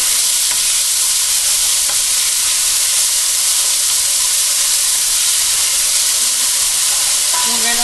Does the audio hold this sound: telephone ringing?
no